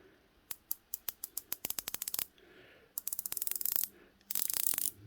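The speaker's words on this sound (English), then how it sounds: "I'll turn this bezel so you can hear that" Ceramic bezel of a Zenea Uladiver Swiss-made diver watch turned by hand, giving crisp, quiet ratcheting clicks, first spaced singly, then in quick bursts of rapid clicking with short pauses between.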